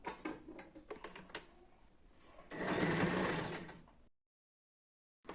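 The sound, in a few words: sewing machine stitching a chudidhar top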